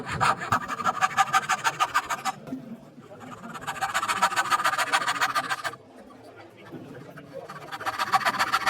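A frame saw cuts dovetail waste in wood with rhythmic back-and-forth rasping strokes in two long close-up runs, with a short pause between them and a third run starting at the end.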